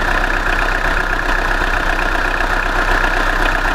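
A Tata Indica diesel car engine idles steadily at a used-car shop, a continuous, loud, even rumble with no pauses.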